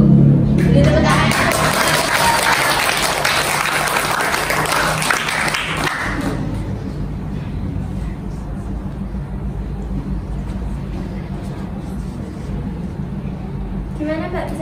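Audience applause at a batik talk show, a dense broad clapping wash in the first six seconds that fades into lingering crowd murmur and room noise.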